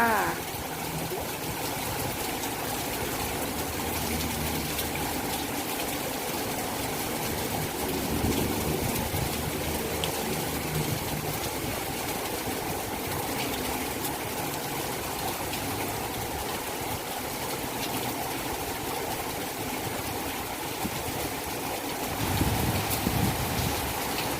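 Heavy rain driven by strong wind pours down in a constant, dense hiss that stays loud and unbroken throughout, with gusty swells and no other sounds standing out.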